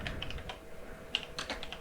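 Quiet, close keystrokes on a computer keyboard tap out a short, uneven burst of typing, with several soft clicks spread across under two seconds.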